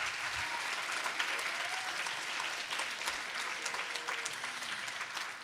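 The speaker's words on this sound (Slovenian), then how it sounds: "En aplavz tudi za njo." Steady, dense applause from the audience at a choir festival concert in Maribor, a continuous wash of many hands clapping at an even level for several seconds.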